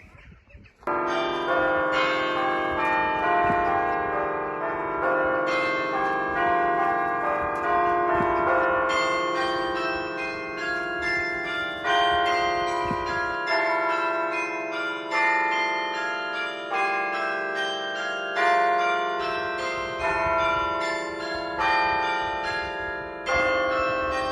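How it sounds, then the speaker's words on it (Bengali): Church bells in Yaroslavl, Russia, peal continuously in overlapping, ringing strokes, loud and close, with rich sustained tones for over twenty seconds and no speech. "পাশেই চার্চ, ঘন্টা বাজছে"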